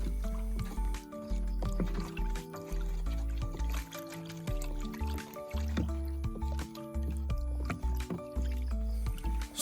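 Three packets of herbal mix are stirred into water for feeding sheep, giving continuous wet sloshing and squishing with scattered clunks and drips for several seconds, close by and without talk.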